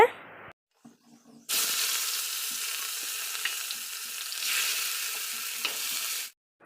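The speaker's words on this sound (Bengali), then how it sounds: "কড়ার মধ্যে সিমটা দিয়ে দিলাম তো ভাজা বসিয়ে দিলাম" Green beans dropped into hot oil in a wok set up a loud, steady broadband sizzle that runs for about five seconds, then cuts off abruptly, with a few faint clinks and a murmur before it starts.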